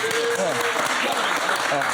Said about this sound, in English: I can't get over the fucking constant clapping